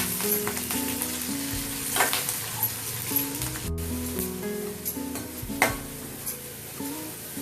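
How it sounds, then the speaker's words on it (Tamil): Onions and curry leaves sautéing in a pan for arai keerai masiyal: a loud, continuous close-up sizzle with intermittent scraping stirs throughout, no talking. "வெங்காயத்தை நல்லா வதக்குங்க"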